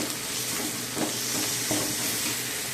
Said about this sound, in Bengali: রসুনটাকে ভালো করে ভাজা করে নেব